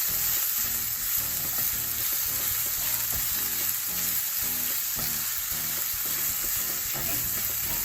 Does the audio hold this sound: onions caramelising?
yes